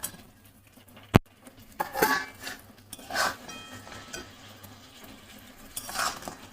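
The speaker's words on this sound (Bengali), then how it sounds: "এবারে কাঁকড়াগুলো দিয়ে দেব, কাঁকড়াগুলো দিয়ে দিই" Crabs go into a pan of spices and water for a yogurt crab curry. One sharp metallic clink is followed by several soft scraping, stirring bursts and a faint sizzle, close and moderate, without speech.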